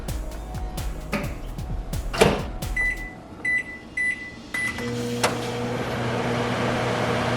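A microwave oven is set with a few button beeps and a door thud, then runs on high, heating macaroni and cheese uncovered, with a steady low hum.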